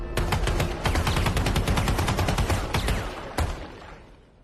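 Rapid automatic gunfire in the video game Valorant, played from a first-person view on the Pearl map: a sustained burst of close, loud shots that stops, then one final shot and a fading tail.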